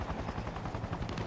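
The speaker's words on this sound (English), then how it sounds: "this is the first time I'm firing my weapon" Weapon fire in the modded military sim game Arma Reforger, a quick cluster of rapid shots, fairly faint and muffled, lasting only about a second.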